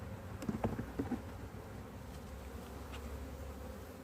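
Honey bees hum around an open hive as a frame goes into a separate box, a low steady buzz close by with a few brief knocks and rustles early on.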